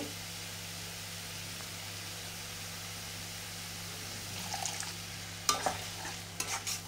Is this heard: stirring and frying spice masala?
yes